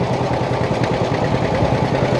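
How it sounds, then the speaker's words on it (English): A restored Cliff Watts John Deere 50 tractor idles at a harvest festival tractor show, its engine chugging steadily and loudly with a rough mechanical clatter. "Our next tractor is a Cliff Watts John Deere 50."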